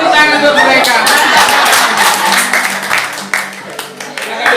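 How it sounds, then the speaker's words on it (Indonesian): An audience claps and applauds for a group that has just performed, a dense, steady wash of clapping mixed with chatter and light laughter, loud and close, thinning slightly toward the end. "Oke, tepuk tangan buat mereka."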